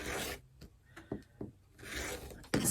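Quilting fabric being trimmed with a cutter on a cutting mat: soft rasping strokes and scrapes, close and quiet, with short slicing swipes between pauses.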